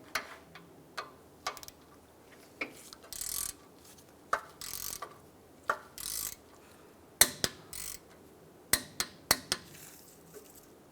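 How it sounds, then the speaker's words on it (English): Torque wrench with a socket tightening the ball joint pinch bolt on a 2007-2015 Mazda CX-9 lower control arm, giving a series of sharp ratcheting clicks in short bursts and single ticks, close and fairly quiet, with no talk. "So now our ball joint pinch bolt is going to be torqued down to 40 foot-pounds."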